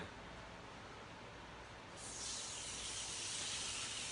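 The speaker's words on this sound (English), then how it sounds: "We want to hear that sizzle." A steady broadband hiss swells louder about halfway through and holds as salmon sizzles hard in a hot pan, with no voices over it.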